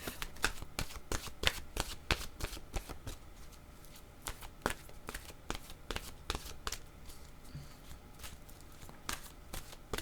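Oracle cards are shuffled in a steady run of crisp riffling snaps and soft slaps, close and fairly quiet, continuing without pause and with no talking.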